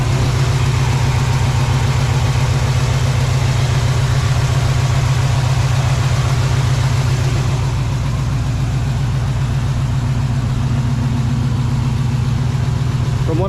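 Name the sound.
1970 Chevrolet Camaro engine running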